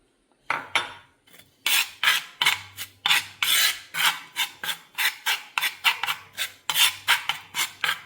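Homemade hair dye paste mixed with tea decoction in a bowl, heard as close, repeated rasping scrapes of a spoon against the bowl in a quick, uneven rhythm, with no talking.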